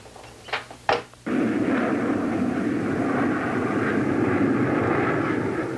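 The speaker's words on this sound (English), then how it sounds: "There are jet aircraft approaching the Army Experimental Ground." Jet aircraft approach and pass overhead with a broad, steady roar that swells in suddenly after a couple of sharp thuds and keeps rumbling loudly to the end.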